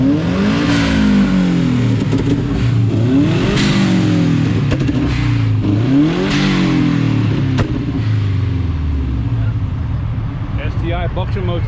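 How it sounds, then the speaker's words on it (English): A Subaru STI boxer engine revs hard repeatedly at a large JDM car meet, loud rising-and-falling throttle blips in quick succession, close by, with voices talking underneath. "STI boxer motor for you, man"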